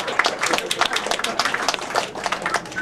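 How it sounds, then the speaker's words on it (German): Applause from an audience at a stage show in the Wachau, a steady patter of clapping that runs the whole moment, mixed with talk and crowd noise. "Ein großer Applaus."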